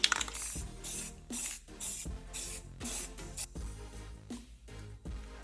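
Spray paint can hissing in short repeated bursts while coating Mk6 side skirt parts, each spray cut off by brief pauses, loud and close.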